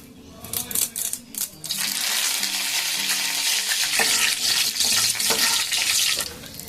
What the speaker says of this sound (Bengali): আমি দিয়ে দিলাম দুটো শুকনো লঙ্কা মাখন দিয়ে ফাটিয়ে